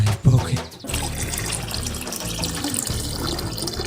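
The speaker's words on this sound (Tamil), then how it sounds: "மோட்டர் அணைங்க. டேங்க் நிறைஞ்சு தண்ணி சிந்துது." Water overflowing from a full rooftop tank while a motor pump keeps running, heard as a continuous, loud, broadband rush and splash of falling water after a brief thud at the start.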